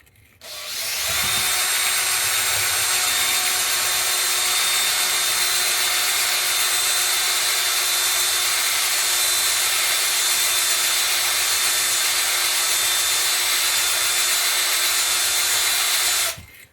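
A stuck Amal carburettor slide from a Triumph Bonneville T140V being lapped with valve grinding compound, likely spun by a power drill: a loud, continuous high whirring grind with steady abrasive rubbing, starting abruptly and holding for about fifteen seconds before cutting off.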